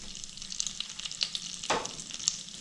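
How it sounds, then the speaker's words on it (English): Panch phoron seeds and red chili sizzle and fry in very hot oil, a steady close crackle with a few sharper pops and one brief stir or clatter, with no voices. "I'm adding just 1 teaspoon of panchforan and red chili"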